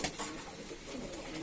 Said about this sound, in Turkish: Yani kuşlar Çok güzel maşallah